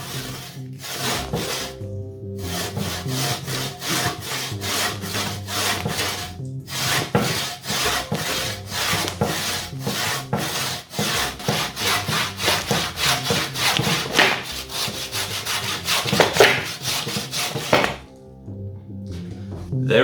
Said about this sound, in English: So I'm gonna start taking the saw and sawing it off right here.